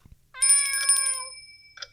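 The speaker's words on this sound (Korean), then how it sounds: "고양이가 내려온다" A cat meows in a video game, one clear drawn-out meow lasting about a second, followed by a brief fainter chirp, close and alone over near silence.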